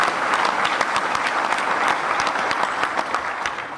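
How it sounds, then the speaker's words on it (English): A crowd at the Louisiana State of the State address applauds legislators, dense sustained clapping filling the hall evenly from start to finish with no voice on top. "they deserve a round of applause and appreciation"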